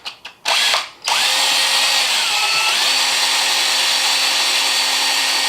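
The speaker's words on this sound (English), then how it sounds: "You want to get kind of in the middle of your box, and you just want to drill." A power drill drilling into a wall to fit a plastic cut-in electrical box starts with a couple of short bursts, then runs steadily in a loud, continuous whine as it bores in, pitch shifting slightly under load.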